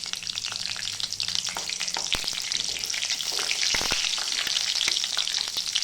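Green chillies and val bean pods frying in hot oil give a loud, busy sizzle with crackling pops and occasional stirring scrapes, steady throughout and close, no talking.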